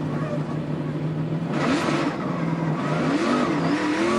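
A NASCAR Busch Series race car pulls out of a damp pit lane at Richmond, its engine droning continuously and rising in pitch as it accelerates away.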